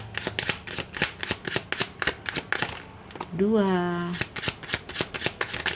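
Tarot cards are shuffled in quick, steady riffles close to the microphone, with crisp papery snaps. A person talks over the shuffling and briefly hums a drawn-out tone.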